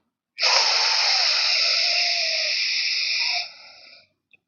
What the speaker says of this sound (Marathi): उजवीनी श्वास घेऊ.